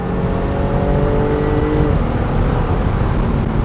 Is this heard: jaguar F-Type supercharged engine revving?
yes